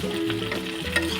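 Singi fish being sautéed in a pan gives a short burst of steady sizzling with a soft stirring scrape, close and even in level, with no voices.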